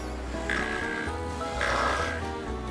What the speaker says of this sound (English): Snoring puddle frog, Phenopetrachus natalensis.